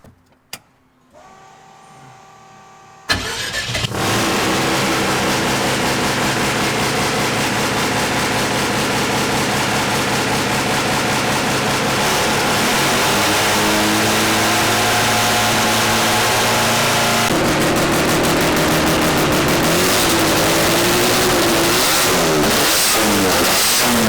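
A car engine starts up and revs loudly and steadily close by, exhaust rerouted out the front, with a harsh, rasping roar that rises and falls over a long stretch.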